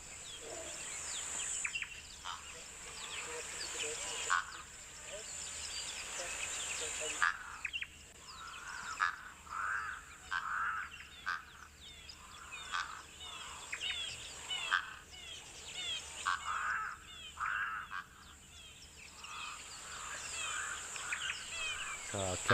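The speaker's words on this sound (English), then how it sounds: "Acacia pied barbet there calling in the distance" An Acacia pied barbet calls repeatedly from a distance in a natural bush setting, its short notes recurring in bursts over steady insect hum, with other bird chirps around it.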